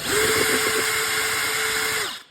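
A powered wrench whirs steadily for about two seconds, loosening screws on a 2022 Ski-Doo snowmobile. It is close and loud, then cuts off abruptly.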